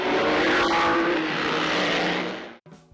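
Formula 1 race cars accelerating away at the start, a loud dense roar of engines that holds steady and then cuts off sharply near the end.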